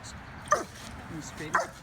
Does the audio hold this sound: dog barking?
yes